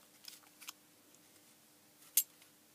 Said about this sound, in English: I will go around with a sharp knife, try not to stab myself in the process, and just cut that round like that.